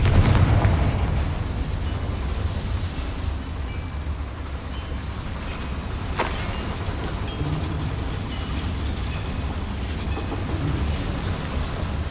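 Confringo explosive spell cast in Hogwarts Legacy inside a small mine: a single sharp blast about midway through, riding over a dense, continuous rumbling roar of ambient noise.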